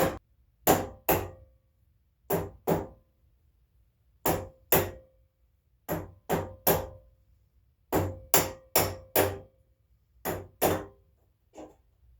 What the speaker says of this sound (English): we're going to beat it with a rubber hammer.